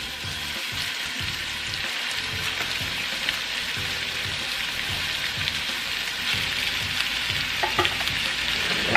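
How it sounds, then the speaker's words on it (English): Beef for pepper steak sizzles loudly and evenly as it browns in a skillet in small batches, a dense hissing crackle with occasional stirring knocks underneath. "we're gonna go ahead and brown this in a couple of batches because you don't want to put too much meat in the skillet"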